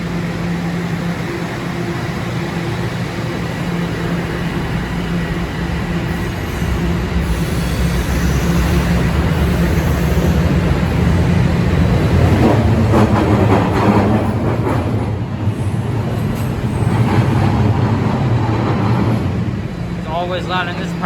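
A train rumbles through Wilson Station with a loud, sustained low roar and rail clatter that swells toward the middle, while a person talks nearby.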